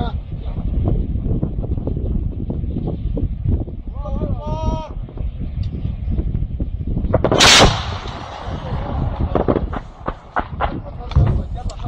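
Artillery fires on Menagh airport in rural Aleppo, with one loud close blast standing out among shouting men, surrounded by steady wind noise and crowd voices.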